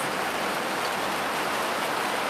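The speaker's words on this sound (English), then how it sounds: "Ooh, the rain's coming hard." Heavy rain pouring down steadily in a residential neighborhood in Costa Rica, a dense, continuous hiss of drops drumming on surfaces with no talk over it.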